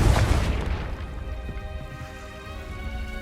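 The Confringo spell goes off in the video game Hogwarts Legacy: a deep booming burst hits hard at the start and then fades into a crackling, rain-like rumble as debris settles. No voices are heard.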